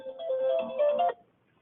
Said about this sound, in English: There's my phone going off.